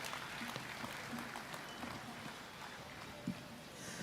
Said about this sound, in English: Can we have a loudest round of applause once again for Mr. Rajan Pental